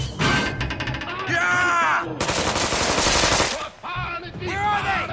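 Rapid gunfire in the South Park: The Stick of Truth video game, dense bursts of automatic shots mixed with game voices and effects, loud and continuous with a brief gap near the end.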